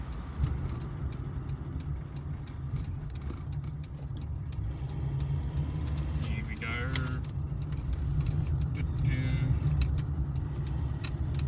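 A 1982 Toyota Corolla KE70 driving around a roundabout, its engine a steady low drone and road rumble heard from inside the cabin, with someone talking briefly over it.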